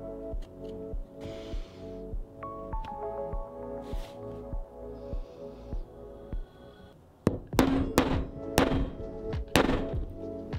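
A hole punch being struck to cut curves into leather for a knife sheath, heard as a steady series of close, dull thunks about twice a second, followed by louder, sharper irregular knocks near the end.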